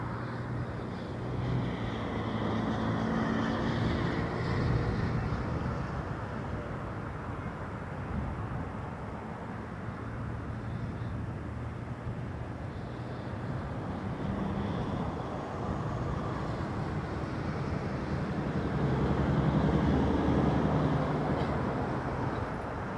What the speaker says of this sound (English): Condor 2403. A330 Neo to Frankfurt.